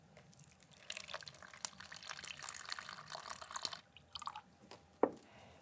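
Water is poured into a container while film-developing chemicals are mixed. A steady splashing pour runs for about three seconds, then a few scattered drips and a sharp clunk in an otherwise quiet room.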